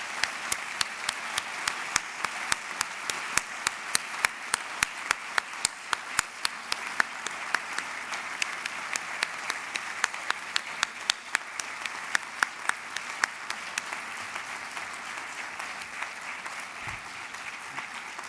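Assembly audience at a formal congress session bursts into sustained applause, dense overlapping clapping with sharp individual claps standing out, steady for most of the time before tapering off near the end.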